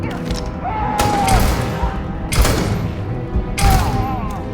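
Gunshots from the Starfield sci-fi video game, with three sharp broadband blasts spaced about a second or more apart over a busy background of game sound effects.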